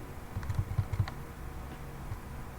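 Someone types on a computer keyboard in a quick burst of roughly eight soft clicks, then the keys fall quiet against a low steady room hum.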